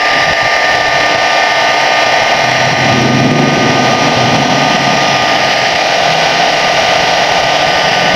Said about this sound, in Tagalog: So iinitin natin ang hot air or hair dryer.